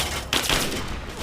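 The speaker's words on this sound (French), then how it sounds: "On va prendre un bon gros fusil d'assaut." Assault rifle fire from the Fallout 3 video game: a couple of sharp, loud shots in quick succession over a steady background of game ambience, with no talking.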